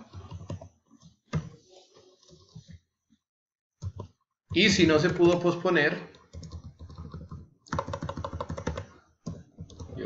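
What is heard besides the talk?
typing on a computer keyboard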